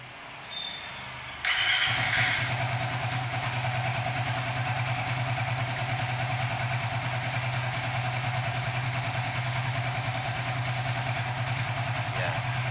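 A Suzuki FU 150 FI motorcycle fitted with a GSX fuel injector starts after a brief quiet moment, then settles into a steady, close, continuous idle with a constant low hum.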